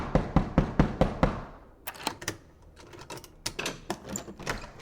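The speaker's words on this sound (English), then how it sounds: "I'm gonna knock on the door." Knuckles rap on a door: a quick run of six sharp knocks, a pause, then more scattered knocks at irregular spacing, close and crisp with no talk.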